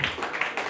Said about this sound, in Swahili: Piga Bwana mabwana makofi